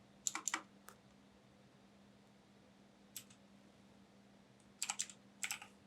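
Bursts of quick keystrokes on a computer keyboard while text is entered in Photoshop, with clusters of clicks near the start and end, a single tap in the middle, and a steady low hum underneath.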